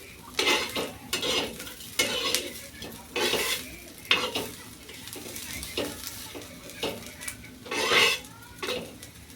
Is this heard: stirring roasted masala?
yes